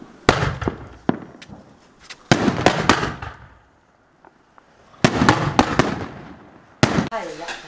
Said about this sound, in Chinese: 这就放炮了啊！